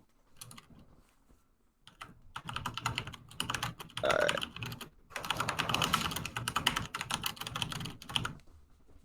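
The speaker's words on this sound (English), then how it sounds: "You typing a novel over there?" Rapid typing on a computer keyboard clatters in bursts of dense key clicks with short pauses between them, fairly close, while a voice briefly speaks partway through.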